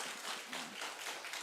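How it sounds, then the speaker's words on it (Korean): A church congregation claps together in self-celebration during a Sunday worship service, a continuous wash of many hands at moderate level, swelling in slight waves over a short stretch. "자축의 박수 멋있게 크게 쳐봐요"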